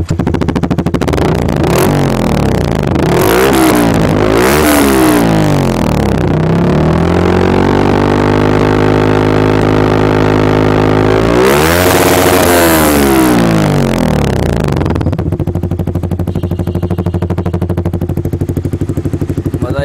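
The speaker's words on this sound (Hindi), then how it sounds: "अब हम लोग लगाने वाले हैं योशुमुरा का लगाने वाले हैं, इसका साउंड सुनना" Yamaha R15 V3 motorcycle with a Yoshimura exhaust revs repeatedly, loud close blips rising and falling, with a long held high rev in the middle before dropping back to a steady idle.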